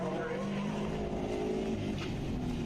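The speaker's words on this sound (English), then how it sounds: "You're getting ready to see a handful of throttle out of that BRZ" A Subaru BRZ race car pulls hard under full throttle across a track infield, its engine roaring loud and steady at high revs for a couple of seconds with faint tire noise.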